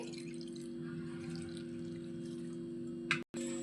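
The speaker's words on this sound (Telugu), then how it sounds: "కొంచెం సరిపడా నీళ్ళు పోసేసుకోవాలి" Water steadily poured into a pressure cooker holding gongura leaves with turmeric, coriander powder and ginger-garlic paste, a continuous close splashing stream with a steady hum beneath, ending in a brief clatter.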